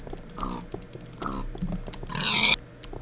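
A Minecraft pig, covered in mud, lets out several short grunts and oinks at close range in a game, mixed with soft clicking of keys.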